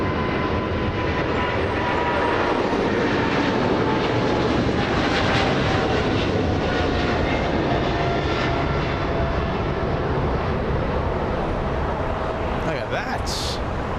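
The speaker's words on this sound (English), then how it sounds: "China Southern Cargo traveling at 130 knots. Runway 25. Listen, this is going to be loud." China Southern Cargo jet accelerating down runway 25 at Los Angeles International Airport on its takeoff roll toward Mexico City; a loud, sustained engine roar with a rising whine, and someone briefly speaks over it near the start.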